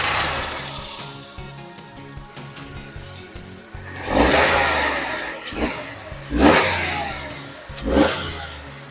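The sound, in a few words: used car petrol engine started and running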